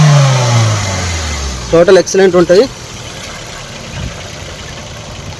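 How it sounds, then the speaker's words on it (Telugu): The petrol engine of a 2021 Maruti Ignis Zeta with 24,000 km on it idles close by, running steadily after a brief rev, while someone speaks over it for a moment. "వెహికల్ ఇంజన్ ఆన్ అయిందండి"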